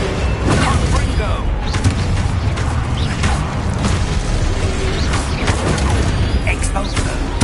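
Rumbling magical blasts from a Confringo spell in a wizard video game, a dense continuous roar of bursts and booms with crackling debris, loud and sustained, overlaid by a voice shouting.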